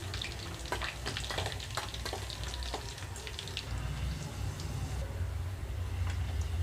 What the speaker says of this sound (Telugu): జీడిపప్పు కొంచెం కలర్ మారే వరకు పల్లీలు కొంచెం క్రిస్పీగా వచ్చే వరకు వేయించుకోవాలి